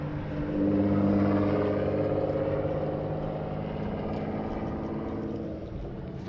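A GTR launching at a 2021 Memphis drag racing session gives a loud, sustained engine roar with a rumbling, slightly rising tone that holds steady, then eases a little toward the end.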